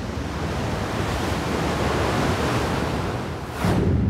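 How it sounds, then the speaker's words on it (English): Waves wash in and out on a sandy shore with rocks nearby, a steady close rush of surf that swells louder near the end, with no voices. "We can hear the water moving in and out"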